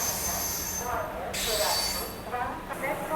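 Vande Bharat Express running between Delhi and Bhopal: wheel squeal and rail rumble carry steadily throughout, with faint voices underneath.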